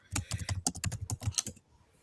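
Rapid typing on a computer keyboard, a quick run of about a dozen crisp, close key clicks over a second and a half, then stopping into quiet.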